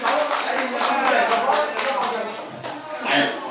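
Guests at a wedding ceremony applaud with a dense wash of clapping that stays loud and continuous, with a voice faintly underneath.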